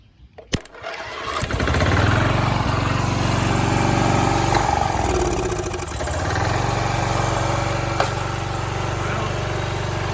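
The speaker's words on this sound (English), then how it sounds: "How you get a 25-year-old mower started." An old 25-year-old Weedeater mower engine cranks briefly, catches, and settles into a loud, steady running drone close by. It dips once midway and then continues, with no talk.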